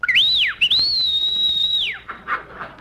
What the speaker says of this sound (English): Why did you whistle?